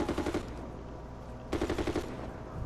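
Rapid automatic gunfire from the Medal of Honor video game, two loud bursts of close, evenly spaced shots separated by a brief lull, with a steady low rumble of battlefield ambience underneath.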